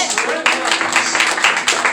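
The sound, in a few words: congregation applause, clapping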